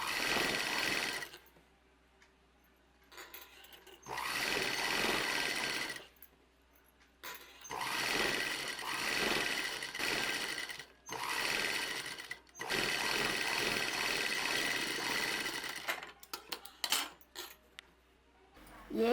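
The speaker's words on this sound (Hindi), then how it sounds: "इसको किनारे किनारे सिलाई लगाएंगे।" A sewing machine stitches along the edges of a fabric frill for a child's frock, running in several bursts of a few seconds each, with short pauses between runs.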